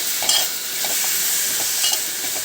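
Mango kootu being stirred in a pan over low heat, a steady close sizzle with soft scraping strokes of the spoon repeating throughout, no voices.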